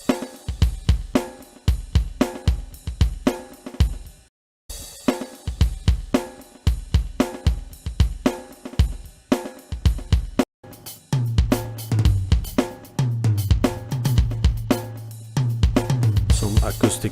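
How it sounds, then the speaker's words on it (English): Acoustic drum kit from the StarLight Drums VST instrument playing loud, steady grooves of kick, snare and cymbals, with a brief dropout before a busier pattern joins a sustained low tone. "we get this drums VST instrument called StarLight Drums"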